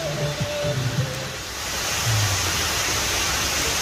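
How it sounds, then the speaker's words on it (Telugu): An artificial waterfall in Dushanbe, Tajikistan, surrounded by trees, gives a constant broadband rush of falling water, close and steady throughout, with a few faint tonal sounds early on. "ఆర్టిఫిషియల్ వాటర్ ఫాల్ ఇలా ఉంది"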